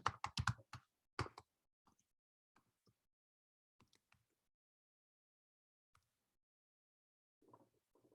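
Typing on a computer keyboard: a quick burst of loud clustered keystrokes at the start, then sparse faint taps with long pauses, and a soft murmur near the end.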